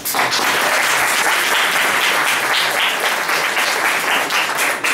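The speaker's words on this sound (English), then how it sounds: "you could get a round of applause for that" Dense, steady applause from an interview audience fills the whole stretch, loud and continuous with a broad wash of many hands clapping and no break.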